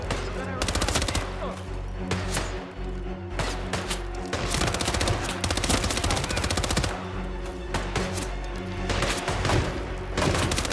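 Constant rapid gunfire and automatic bursts from a firefight in the Hitman World of Assassination video game, loud and dense throughout, with a player's voice talking over it.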